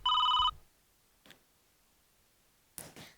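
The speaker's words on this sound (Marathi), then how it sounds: "अरे नलू मावशीचा फोन आहे." A telephone rings once loudly and close with a bright electronic tone, then falls quiet apart from a few faint clicks and rustles.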